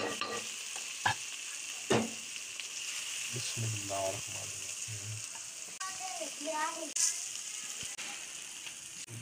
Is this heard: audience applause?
no